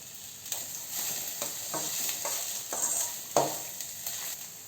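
Chopped capsicum sautés with onions in a pan, a soft steady sizzle punctuated by repeated scraping stirs of a spatula, close and alone without talk.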